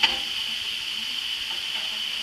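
Chicken pieces sizzle steadily in a hot pan while being flipped, a constant close frying hiss with a brief scrape at the start.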